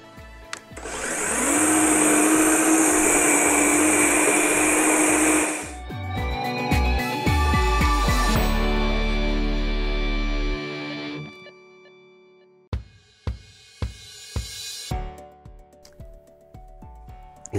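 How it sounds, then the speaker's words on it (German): Einhell GE-HM 18/38 cordless cylinder lawn mower cutting grass with the height set to 14 mm. A loud whirring reel runs close for several seconds, then gives way to lower motor tones and a series of sharp clacks as it rolls on. "mähe weiter und ihr dürft mir gerne mal kurz dabei zuschauen"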